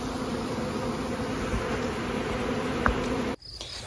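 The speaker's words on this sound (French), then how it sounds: "on m'a appelé pour des guêpes et ce sont des abeilles" A swarm of honeybees, first reported as wasps, drones in a dense, steady buzz close by for over three seconds, then cuts off sharply, leaving only a faint hum behind.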